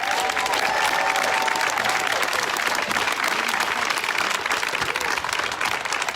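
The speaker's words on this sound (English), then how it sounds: "let's give a round of applause for Jonathan" Crowd at an outdoor community march for Black Lives in White Center applauds steadily and loudly, a dense wash of many hands clapping with a few cheers mixed in.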